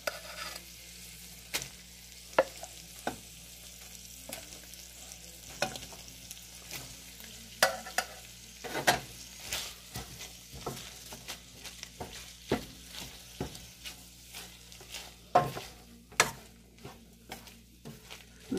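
Ground beef, bell peppers and rice sizzle softly in a pan while being stirred, with frequent scraping and clinking of a utensil against the pan, close by and without speech.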